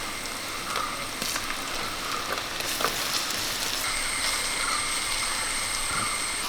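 Boiled, washed and squeezed soya chunks frying in a pan for a soya fry, giving a steady, close hiss of sizzling oil with scattered crackles and pops that continues evenly.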